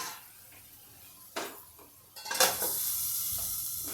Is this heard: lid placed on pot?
yes